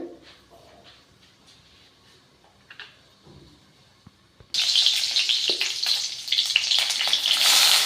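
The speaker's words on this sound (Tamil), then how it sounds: "எண்ணெய் காஞ்சாச்சு கடுகு போட்டாச்சு கடுகு உளுத்தம் பருப்பு" Mustard seeds and urad dal hit hot oil and burst into a loud, dense crackling sizzle about halfway through, after a quieter stretch of soft kitchen clatter.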